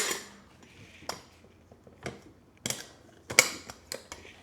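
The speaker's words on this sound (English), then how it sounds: "Once you're done with it, everything kind of nests back inside." Pieces of a DIY camping cookset nest back together, giving a handful of sharp metallic clinks and clanks spaced irregularly, close and fairly loud against a quiet background.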